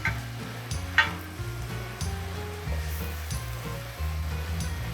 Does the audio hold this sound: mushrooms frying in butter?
yes